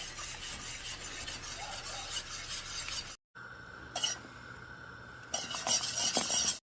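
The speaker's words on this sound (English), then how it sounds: "just keep watching it and stir it around" Butter and sugar toffee stirred in a pan, a close, steady rubbing and scraping of the spoon against the pan bottom, cut by a brief silence before the stirring resumes and grows louder.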